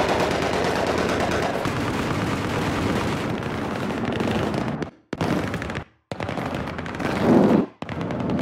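Rapid, dense gunfire from a video game battle in Battlefield 3, near and loud, running almost continuously with two brief pauses, a shotgun among the weapons.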